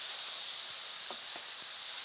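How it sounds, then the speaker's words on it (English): Chicken pieces browning in a hot pan, a steady bright sizzle and hiss throughout, with a few faint soft knocks of stirring or turning in the pan and no talking. "Now, our chicken, we want to brown this and we want to get it cooked through."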